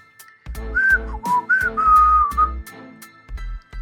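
A wavering, sliding whistled tune rises and falls in short phrases, loud and close, punctuated by soft thumps between notes.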